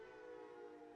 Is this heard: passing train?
yes